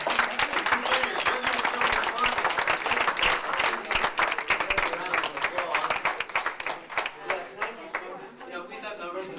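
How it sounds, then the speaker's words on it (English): An audience at an all-day raw food event in Boulder, Colorado applauds the presenters with sustained, dense clapping that thins out toward the end, while a voice speaks over it. "I think the presenters deserve a round of applause."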